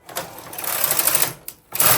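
Brother KH 260 knitting machine carriage sliding across the needle bed, a steady close mechanical whirring rattle for about a second and a half, a brief stop, then the pass resumes loudly.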